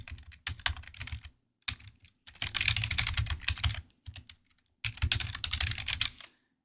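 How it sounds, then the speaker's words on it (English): Close, crisp typing on a computer keyboard comes in quick bursts of key clicks separated by short pauses, with no talking. "Hit enter on my keyboard."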